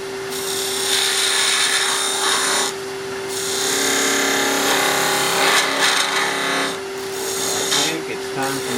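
Wood lathe turning an angel ornament from hardwood or softwood, a V-cut eased in with a tool that needs sharpening: a steady whine with a bright tone, broken by short pauses as the tool lifts off, close up.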